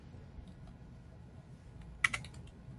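Someone types a command on a computer keyboard, producing a quiet background hum and then a brief cluster of soft, close keystroke clicks.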